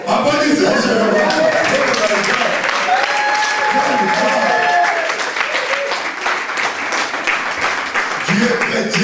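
A church congregation applauds during a sermon, sustained clapping from a crowd with voices and some chuckling mixed in, fairly loud throughout.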